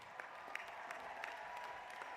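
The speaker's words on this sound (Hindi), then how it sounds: "तालियों से स्वागत कीजिए।" A crowd claps in welcome for a folk singer about to perform Uttar Pradesh folk songs at a yearly gathering, a faint, even spread of applause with a few sharper individual claps popping out at regular moments.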